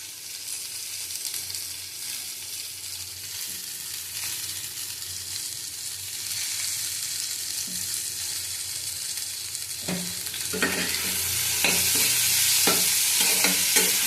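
Food frying in a pan, a continuous soft sizzle with intermittent stirring clatter that grows louder and busier toward the end.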